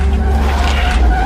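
A car skidding and crashing in a video game, a loud continuous tire-skid roar with a heavy low rumble running through the whole moment, no voices over it.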